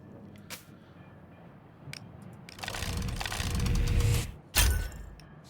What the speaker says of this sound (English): The air is filled with sound and spark of metal and the smell of white hot iron.